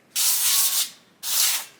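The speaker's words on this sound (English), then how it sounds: "Spray." Baking spray hissing onto a cake pan for a raspberry cake, two close bursts, the first about 0.7 seconds long and the second shorter, with silence between.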